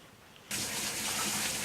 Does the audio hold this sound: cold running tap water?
yes